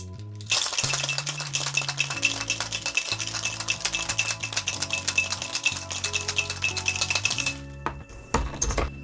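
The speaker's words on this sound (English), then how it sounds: "Then we'll ice and shake it." A daiquiri shaken hard with ice in a cocktail shaker gives a fast, loud, continuous rattle of ice cubes knocking against metal for several seconds, then stops abruptly, followed by a few faint clinks.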